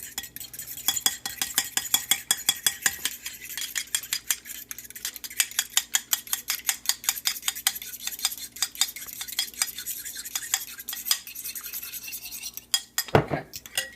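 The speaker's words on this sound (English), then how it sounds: "you're going to want to mix it up with a fork." A fork stirs and mixes ingredients in a bowl, giving a steady run of quick, close metallic clicks and scrapes that carry on for most of the stretch before ending with a louder clatter.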